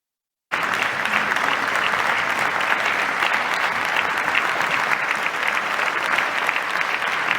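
Sustained, dense applause and standing ovation from the plenary of the Parliamentary Assembly of the Francophonie in a large hall, steady and loud from start to finish after a brief silent moment.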